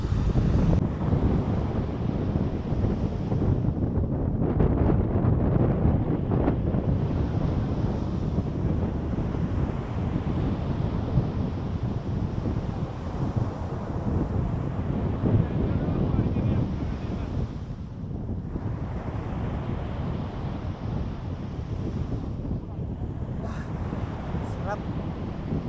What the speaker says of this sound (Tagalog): Nandito na tayo sa gilid ng dagat.